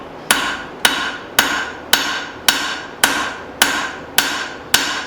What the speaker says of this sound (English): So I'm hoping the extra hammering is going to pay off, make it look real nice.